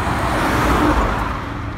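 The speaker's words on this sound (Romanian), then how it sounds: "Și fiecare mașină care trece îl stârnește." Cars roll past on a road and pavement covered in sand and dust beside a concrete plant, a continuous near whoosh of tyres and engines with a swelling pass in the middle, no voices.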